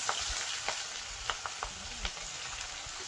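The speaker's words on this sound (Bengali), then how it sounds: "পেঁয়াজ রসুন ভাজা হয়ে গেছে" Onion and garlic, with cumin and bay leaf, frying in a pan for a village-style duck curry, a steady soft sizzle with a few light stirring clicks and scrapes; no one talks.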